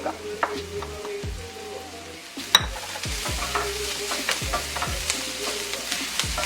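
Onion, ginger, garlic and green chili sizzling and frying in a pan for a fish cutlet, with steady crackle and repeated scraping stirs throughout, close and moderately loud, no talking.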